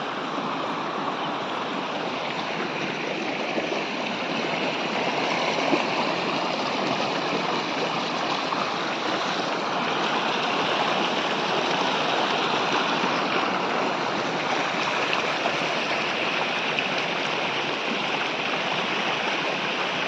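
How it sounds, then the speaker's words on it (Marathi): River water pours over a large weir on the Mahajani river, making a steady, loud, broadband rushing roar that fills the whole stretch without pause and with no voices. "महाजनी नदीचा हा खूप मोठा बंधारा इकडं"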